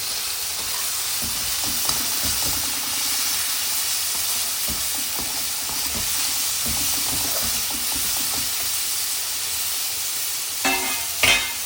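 Snake gourd sizzles in hot oil as it is stirred in a pan, a continuous loud frying hiss broken by repeated scraping and clinking of the spoon against the pan, and there is no speech.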